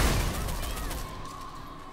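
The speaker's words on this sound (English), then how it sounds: "Shots." A loud burst of gunfire in the video game Rogue Company hits at once and then trails off into echoing rumble, with the shots blending into a dense volley.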